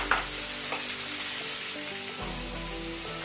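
Steady sizzling and frying from cherry tomatoes cooking down in a hot pan, with faint clinks of utensils, continuous at a moderate level with no talking.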